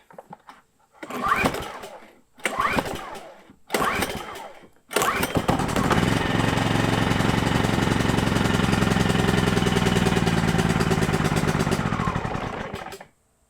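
A small petrol engine, left sitting for three or four months on stale fuel, is pulled three times with a recoil cord. On the fourth pull it catches and runs at a steady idle for several seconds before cutting off, loud and close.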